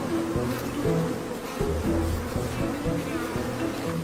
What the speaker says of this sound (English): A swarm of angry bees isn't the best lullaby for a tired wild dog